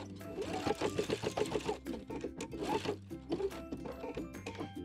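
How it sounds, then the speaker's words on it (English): A sewing machine runs a straight stitch along the hem of a wrap skirt, humming up close in quick bursts with short pauses between them. "So just doing a straight stitch right over the existing stitch that's there from when we hemmed"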